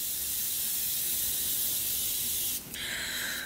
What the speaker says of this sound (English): I'm going to take a little bit of the Morphe Setting Mist and I'm going to spritz the blender